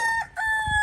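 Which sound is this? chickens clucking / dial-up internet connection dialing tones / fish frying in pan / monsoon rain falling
chickens clucking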